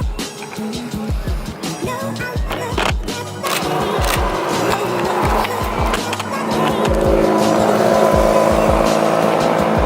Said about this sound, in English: It's got Centenario leaving the event now.